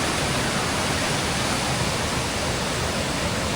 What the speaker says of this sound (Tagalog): Dito tayo sa Mahagal Falls.